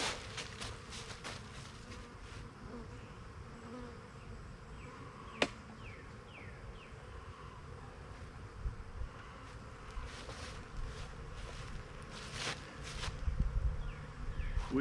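Honeybees buzz around an outdoor hive laden with nectar and pollen, with many individual insects droning past the microphone close and far against a steady hum of the colony; no one speaks.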